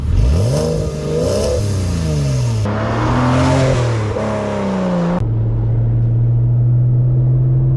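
A Porsche sports car engine revs loudly and close, rising and falling in pitch through several throttle sweeps before settling into a steady, droning high-rev hold.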